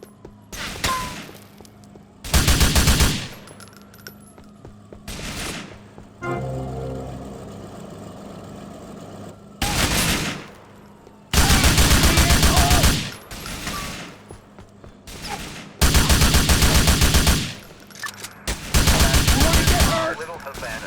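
Bursts of automatic gunfire from a boat fight in the Grand Theft Auto Vice City Diaz missions, loud repeated volleys separated by quieter gaps with engine hum and a brief radio voice.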